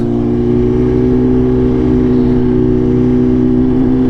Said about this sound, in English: The titanium headers with the SC slip on. It sounds unbelievable.